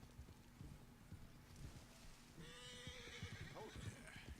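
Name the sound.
horse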